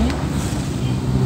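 Heavy traffic passing on a patched, recently repaired road, with a loud, continuous low rumble of engines and tyres close by and no voices.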